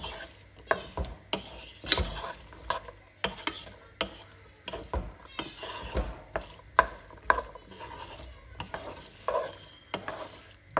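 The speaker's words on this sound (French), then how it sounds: "Je mélange le tout et je laisse cuire comme ça quelques minutes. tout en remuant de temps en temps." Peppers and onions cook in a pan while a utensil stirs them, giving repeated close scraping and clattering strokes over a faint, low sizzle.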